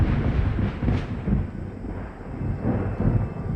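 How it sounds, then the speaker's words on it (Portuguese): Thunder cracks and rolls in a low, heavy rumble, loudest at one sharp peak early on and then grumbling steadily through a dark storm in a spoken folk tale. "De repente, um trovão estridente assustou a mula"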